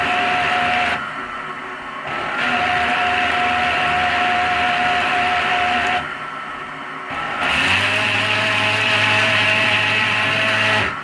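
A JR Ultra Touch 3 Quantum brushless commercial blender grinds nuts into flour with a loud, steady high whine, briefly dipping twice before surging back up to a harder, rougher roar.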